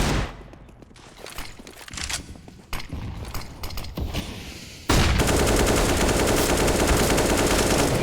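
Bursts of AK rifle fire ring out in a Counter-Strike match on the Mirage map, with scattered shots early on and then a dense, loud, continuous barrage of rapid gunfire through the second half.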